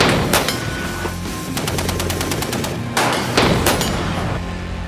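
Live-fire gunshots crack in rapid repeated bursts, a fast string of sharp reports followed by a few more loud shots, close and dense with echo.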